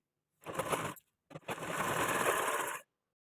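A sewing machine stitches a hook strip on a sleeveless bra-cut blouse, running in a short burst, pausing briefly, then running in a longer steady burst, close and alone.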